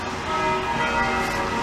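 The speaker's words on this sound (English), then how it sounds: "Church bells may ring, ding, ding, ding, ding, ding, ding, the church bells may ring." Church bells ringing from a church along a Montreal boulevard, heard as a sustained metallic tonal hum over street noise, steady and moderately loud with no voices.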